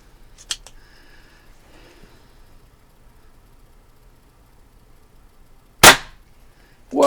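Diana Chaser .22 caliber CO2 pistol firing outdoors at targets, one small pop early, then a loud sharp shot near the end followed by the start of another, with a quiet low background between.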